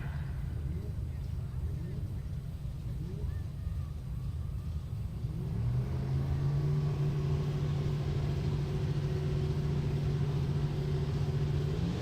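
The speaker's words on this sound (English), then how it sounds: "And here comes the Hellcat left-hand side." A Dodge Hellcat at a drag race rumbles low, then its engine rises into a sustained, steadily climbing drone as it launches down the strip, heard from a distance.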